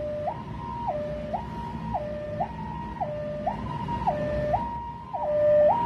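An ambulance siren sounds on a road blocked by bikers doing wheelies, its loud two-tone wail alternating steadily high and low about once a second, with traffic rumble beneath and no talking.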